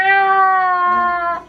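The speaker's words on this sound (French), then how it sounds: "Petit chat. ah oui, ça fait un petit bruit." A kitten gives a single drawn-out meow, close and clear, lasting about a second and a half with no other sound around it.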